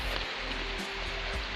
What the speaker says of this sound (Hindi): बहुत तेज़ बारिश अभी तो शुरू हुई है, पूरा बारिश आ गई